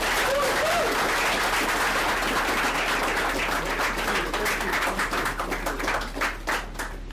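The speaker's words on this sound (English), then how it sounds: "Applause for yourself." Participants at the BoyCode Africa bootcamp applaud, a sustained crowd clapping that starts as a dense wash and thins toward the end into more distinct, rhythmic individual claps, with faint voices underneath.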